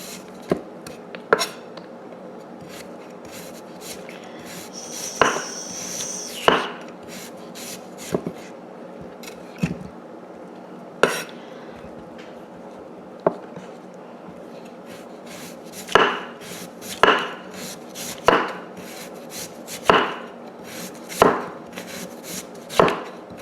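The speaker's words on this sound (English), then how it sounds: "I slice some on this side." A knife slices through a raw jicama on a cutting board, giving a run of crisp, separate chops that hit the board at an uneven pace, close and clear with no talk.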